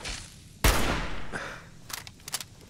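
Gunfire in the PC game Fallout 4: one sharp, loud shot followed by a quieter tail, then a few softer, quick bursts of distant shots.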